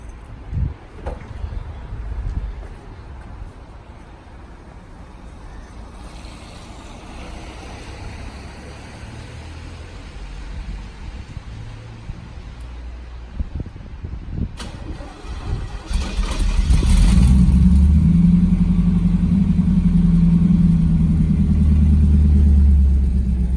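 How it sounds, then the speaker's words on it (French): A Chevrolet Camaro's stock engine turns over and catches, a low rumbling idle that swells louder after a quieter stretch of ambient noise. "Tu vas nous la démarrer, s'il te plaît."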